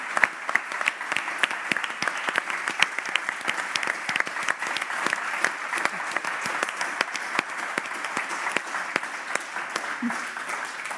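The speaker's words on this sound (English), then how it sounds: "Don't clap too much" A crowd applauds steadily for several seconds, dense continuous clapping with no pause.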